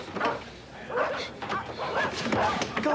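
Dogs bark in short yapping bursts mixed in with people talking over them, the barks moderately loud amid the conversation.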